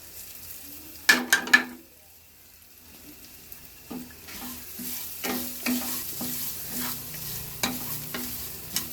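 Spices and half a cup of coconut roast in a pan for bitter gourd pitlai. A few sharp clanks come first, then a soft sizzle with regular scraping stirs, quiet and close.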